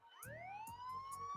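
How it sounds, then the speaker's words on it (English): A fake police siren sound effect rising in a steady upward wail, fairly faint, with short bursts of other noise popping in between. "tell that's a fake siren"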